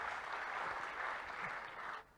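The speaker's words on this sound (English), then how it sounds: "let's get a round of applause." A crowd at the Moto G6 and G6 Play launch event in India claps in a full, sustained round of applause that cuts off abruptly near the end.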